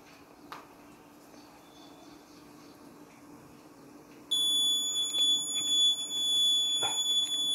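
An alcohol-detection alarm buzzer on an ESP32 engine-locking system switches on partway through and sounds continuously with a shrill, steady high tone, after a few seconds of quiet room noise and faint clicks.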